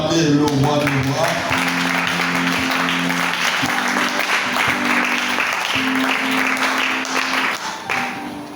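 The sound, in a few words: church congregation applauding and acclaiming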